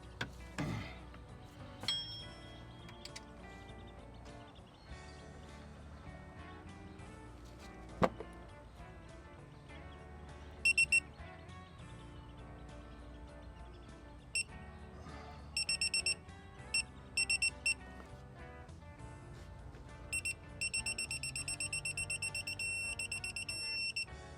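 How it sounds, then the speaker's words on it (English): Several short electronic beeps at intervals, then a sustained high tone near the end, over a quiet background with no talking. "that long beep is what we want."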